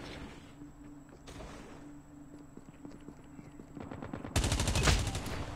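Rapid automatic fire from a RUS-79U Dustkicker submachine gun in Call of Duty Mobile, scattered single shots giving way to a sustained, loud close burst over faint background game sounds.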